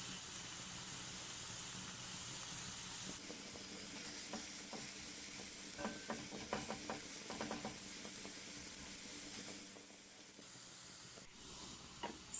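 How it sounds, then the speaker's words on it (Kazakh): Carrots drop into a pan of frying garlic for a vegetable sauce, giving a steady, fairly faint sizzle with light stirring scrapes and clicks, easing off toward the end. "Сарымсағымыздың суы тартылды, енді сәбізді саламыз."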